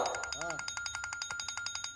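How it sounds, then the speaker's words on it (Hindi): A phone rings indoors with a rapid, regular electronic trill that repeats throughout. A voice is heard briefly near the start. "बेटा फोन बज रहा है, उठा लो"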